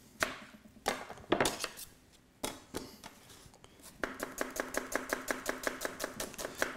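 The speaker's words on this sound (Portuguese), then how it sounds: "Seguidamente, picar uma cebolinha." Spring onion is chopped finely on a board with a knife, first in a few separate chops with pauses, then in a fast, even run of close, crisp cuts.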